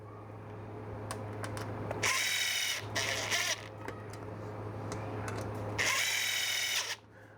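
A power drill whirs in two short, loud bursts as it drives screws, with quieter clicks and handling noise between them over a low hum.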